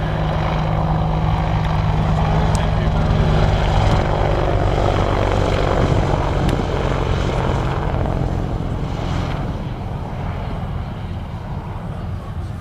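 An Army Air Corps Apache attack helicopter flies low-level manoeuvres and steep banking turns at an airshow, its loud steady rotor and engine roar filling the air continuously and easing slightly toward the end.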